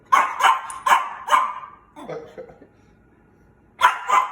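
A vet's dog barking up close, a quick series of four sharp barks, a softer grumbling yip after a pause, then two more barks.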